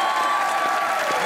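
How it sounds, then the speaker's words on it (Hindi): Steady applause from a studio audience on a Pakistani comedy talk show, dense and continuous clapping filling the room without pause, with no voices rising above it. "तालियां"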